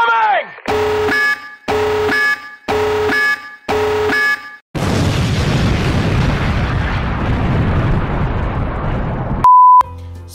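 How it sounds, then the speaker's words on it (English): Cartoon-style nuke explosion effect: a run of four short repeating beeping bursts gives way to a loud, long rumbling blast that slowly fades, ending on a brief steady tone. "Tactical nuke incoming!"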